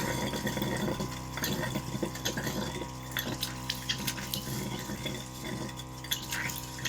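Cold tap on a static caravan sputtering during a compressed-air drain down, water and air spurting in irregular bursts over a low steady hum, faint and fairly close.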